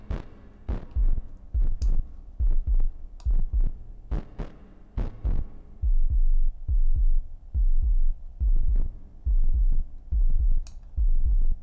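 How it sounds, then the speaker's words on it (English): The Airwindows OrbitKick plugin produces a low frequency rumble: a string of deep, thudding kick-like pulses in an irregular rhythm, loud and alone, with short gaps between bursts. "And we're making a sort of low frequency rumble"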